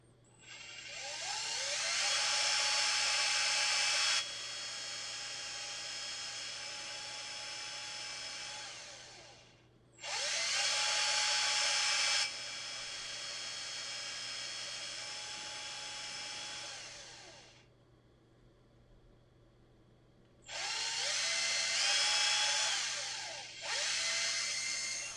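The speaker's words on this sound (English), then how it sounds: "Done with the drilling." A power drill runs in three separate bursts, each a steady whine lasting a few seconds, with short pauses between them. The sound is quite quiet overall, and no one speaks.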